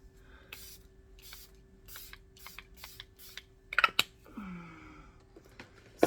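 Several short bursts of Charlotte Tilbury makeup setting spray in a quick rhythmic series, followed by a louder hiss and a clatter, heard up close in a quiet room.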